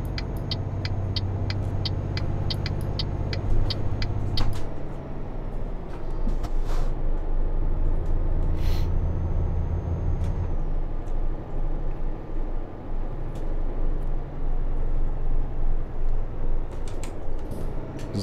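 A heavy truck in Euro Truck Simulator 2 accelerates to overtake a car, its engine a loud, steady low drone with rumbling swells and scattered light clicks, heard alone without talking.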